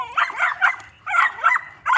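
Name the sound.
little toy mixed-breed dog barking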